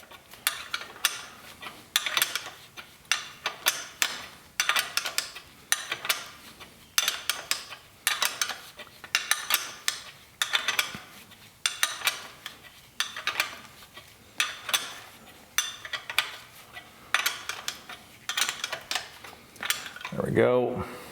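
A 1/4-inch drive ratchet tightening small oil pan bolts on a BMW E60 M5 with the S85 engine: rapid ticking clicks in repeated bursts, close and fairly loud, with brief pauses between strokes.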